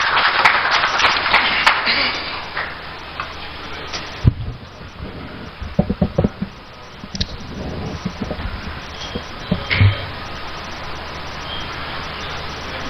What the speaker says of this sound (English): Let's give him a hand of applause as he comes,